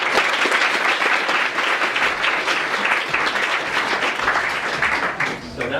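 An audience at a speaking event at Google Campus breaks into sustained applause, a dense wash of clapping that holds steady for several seconds before thinning out, with a faint voice underneath.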